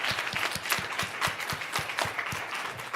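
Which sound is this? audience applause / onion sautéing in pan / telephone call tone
audience applause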